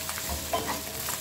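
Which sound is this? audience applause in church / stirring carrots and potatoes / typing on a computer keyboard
stirring carrots and potatoes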